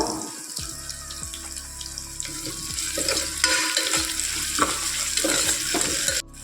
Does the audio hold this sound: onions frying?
yes